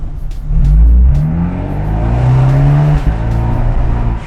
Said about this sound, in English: I'm in love with the exhaust note of this car.